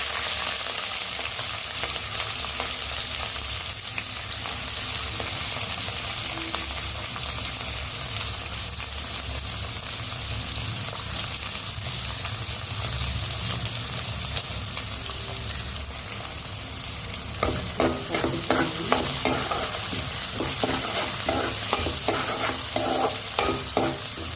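Seasoning seeds and chopped onion sizzle steadily in hot oil for drumstick tomato curry, a continuous close frying hiss with stirring scrapes and crackles toward the end, no voices.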